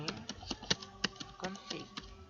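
Someone types a command on a computer keyboard, a quick uneven series of soft close clicks and taps with faint background murmur.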